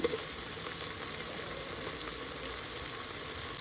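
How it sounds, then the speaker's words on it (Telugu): Tomato pieces frying with ginger-garlic paste in a pan while cooking natukodi pulao, a steady dense sizzle that holds at an even loudness throughout with no talking. "ఇదంతా కూడా బాగా ఫ్రై అయిపోయాక దీంట్లో మనం కట్ చేసి పెట్టుకున్న టొమాటో ముక్కలు కూడా యాడ్ చేసుకున్నామండి"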